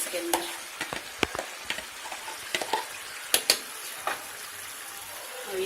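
Yogurt with cumin stirred into a sizzling karahi, steady frying hiss under repeated clicks and scrapes of a spoon against the pan, close and fairly loud with no speech.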